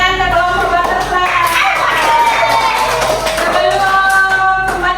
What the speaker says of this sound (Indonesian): kita kasih tepuk tangan ke kelompok butterfly